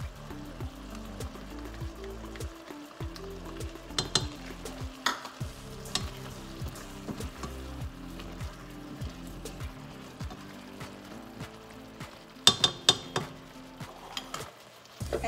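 Garlic sizzles in a hot pan while a utensil stirs and scrapes it in irregular strokes, with a few sharper clinks, close and moderately loud, no talking.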